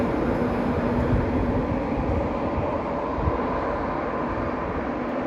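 A train rumbles steadily past at Doncaster station on the East Coast Main Line, a loud, continuous roar with rolling low-end rattle and no letup across the whole stretch.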